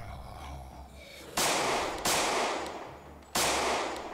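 Three loud, sharp gunshots fired in Project Zomboid, each a sudden blast with a decaying tail, spaced unevenly over a low background hum.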